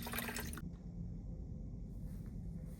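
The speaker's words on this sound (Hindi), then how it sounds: "सो बेसिकली मैंने गर्म पानी किया है, इस कंटेंट को पूरा इधर डाल दिया है" Hot water poured into a cup of instant noodles: a short splashing gush at the start, then a quieter bubbling, trickling wash that continues faintly to the end, with no speech.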